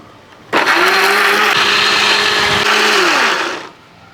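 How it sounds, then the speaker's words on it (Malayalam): A mixer grinder grinding chammanthi chutney runs loud and steady for about three seconds, its motor whine holding a constant pitch before winding down, with a short quiet stretch before and after. "അതേപോലെ തന്നെ നല്ലപോലെ അരച്ചങ്ങോട്ട് എടുക്കാം"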